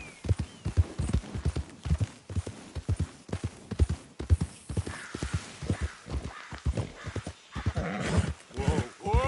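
In Red Dead Redemption 2, a horse's hooves clop in a fast, steady gallop, close and loud, before a high whinny rises near the end, with a voice talking intermittently.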